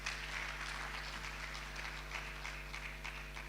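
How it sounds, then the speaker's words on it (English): An audience at a book launch claps steadily for several seconds, a faint, dense patter of hands over a low electrical hum. "Let us give a clap of hand to Kenneth."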